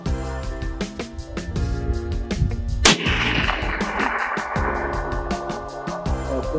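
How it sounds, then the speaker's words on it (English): A CheyTac M200 Intervention .408 sniper rifle fires one loud, booming shot midway, with a long rumbling tail, while steady music plays throughout. "the CheyTac, like I said, big boy for sure. And I think we actually have some footage of us shooting it."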